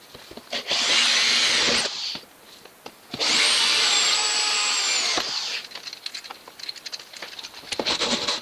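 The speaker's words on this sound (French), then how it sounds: "Enfin, il m'en reste deux, donc les deux autres, faut que je les reperce." A power drill re-bores seat mounting holes in the floor of a Land Rover Discovery, sounding in two loud, whining bursts, then scattered tapping and handling noises.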